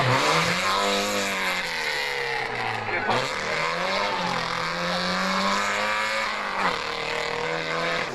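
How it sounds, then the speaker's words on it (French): A 700 cc Sebim rally car at a rally event, its engine droning and revving steadily nearby with shifting pitch, gear changes audible, over constant crowd or commentary noise. "Cylindrée 700 cm3 pour cette voiture Sebim aux couleurs Macron."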